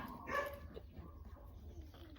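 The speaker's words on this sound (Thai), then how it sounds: "เอ๊ะปันเห่าอะไร" A startled household dog gives one sharp bark close by. Quiet room noise follows with no other sound.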